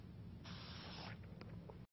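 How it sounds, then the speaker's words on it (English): A spray paint can hisses onto a small lantern made from a beer can, one steady burst of close, fairly soft spray lasting under a second, then a few faint taps. "Now we're going to spray paint our lantern."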